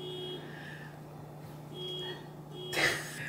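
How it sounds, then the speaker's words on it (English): A distant car alarm sounds outside, its repeating two-tone electronic pattern cycling faintly over a low steady hum. "Someone's car alarm is going off."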